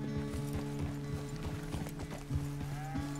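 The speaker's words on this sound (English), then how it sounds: "The horse can feel your fear." Horse hooves clip-clop steadily in Red Dead Redemption 2 as a horse is ridden, with a brief whinny near the end, set over a low, sustained musical drone.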